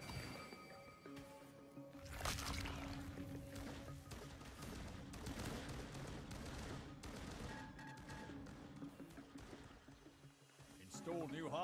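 Deployed turret firing in the Firefall video game, repeated bursts of shots layered over tonal electronic game sounds and hums, moderately loud with a brief synthetic voice-like chirp near the end.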